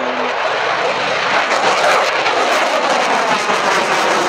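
A JAS 39 Gripen fighter jet engine roars loud and steady, a dense broadband rush that holds at full strength throughout with no voices.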